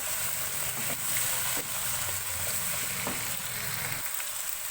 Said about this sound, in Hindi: थोड़ा सा भूनेंगे इसको लहसुन अदरक के साथ।